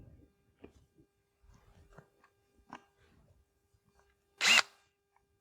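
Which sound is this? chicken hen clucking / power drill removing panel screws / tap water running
power drill removing panel screws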